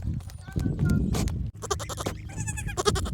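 Goats bleating in snowy Colorado, several short calls in the first half mixed with nearby talking and rustling, with voices continuing over the later part.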